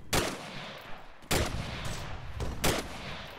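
Gunfire in a military video game: three loud, sharp shots or short bursts spaced about a second apart, each ringing out over a steady rumble of background noise, with no talk.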